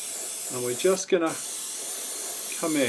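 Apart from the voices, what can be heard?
trigger airbrush spraying paint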